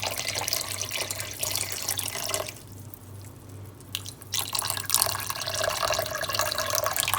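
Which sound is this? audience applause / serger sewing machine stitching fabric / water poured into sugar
water poured into sugar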